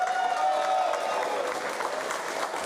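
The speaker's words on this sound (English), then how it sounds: "We need the biggest round of applause going because without them we wouldn't be here" Sustained applause from the audience at a Pokémon TCG special event in Barcelona fills the space, a dense steady patter of many hands with a faint crowd murmur.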